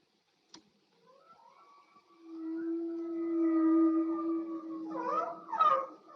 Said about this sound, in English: The whale sounds you are now hearing contain wavelengths that can travel not just across one ocean basin, but around the entire world.